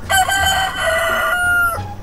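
A single loud, drawn-out rooster crow rings out in the Hello Neighbor 2 video game, close and clear, rising then falling over about two seconds.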